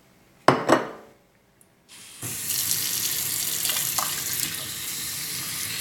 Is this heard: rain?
no